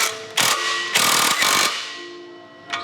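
Ratcheting clicks from tightening an exhaust clamp under a Toyota GR Corolla during a Magnaflow Neo exhaust install, in three bursts of rapid close metallic ratchet strokes with brief pauses between, then a short final click.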